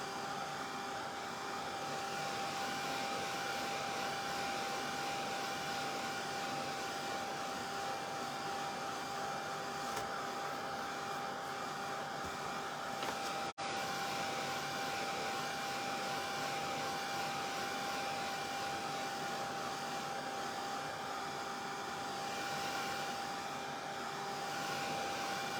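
A hair dryer blows a constant, loud whirring hum while drying a painted wooden craft Santa boot, steady and close throughout with a brief dropout midway and no talking.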